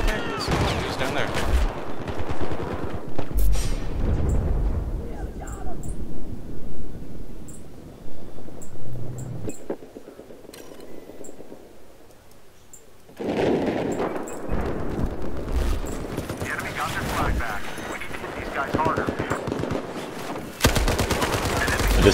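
Gunfire in the video game Battlefield 4 during a capture-the-flag match on Dragon's Teeth, with bursts of automatic fire and heavy blasts in loud clusters separated by a quieter lull, and voices talking over parts of it.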